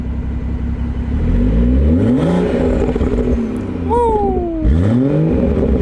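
BMW B58 engine fitted with a downpipe and Remus muffler, revving hard in several rising and falling sweeps with a deep rumble, loud and close, with a brief voice partway through.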